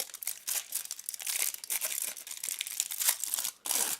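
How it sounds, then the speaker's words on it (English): Tin foil wrapping on a Nestlé Les Recettes De L'Atelier milk chocolate bar with cranberries, almonds and hazelnuts is torn and peeled back in close, bursty crinkles and rips, with no talking. "open it up by tearing the tin foil open"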